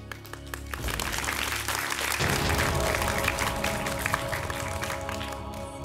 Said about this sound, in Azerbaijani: Biz onları alqışlayırıq